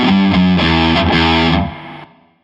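Heavily distorted electric guitar plays a short chugging rhythm part from a rock song, loud and close, a few chords ringing before being cut off and fading.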